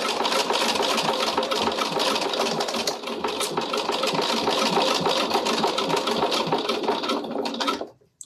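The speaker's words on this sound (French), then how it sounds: "je place la petite rainure entre le passepoil et le velours, et je surpique tout droit" A sewing machine runs steadily and close, topstitching straight along velvet and piping, a continuous mechanical whir that holds for about eight seconds before stopping abruptly.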